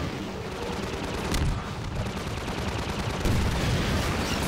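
Dense, continuous gunfire from the Half-Life 2 video game, rapid overlapping shots and blasts roaring loudly without a break and swelling near the end, with no voices.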